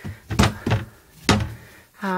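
A craft room drawer shuts in a few short, dull wooden thunks spread over about two seconds, close by, with no one speaking.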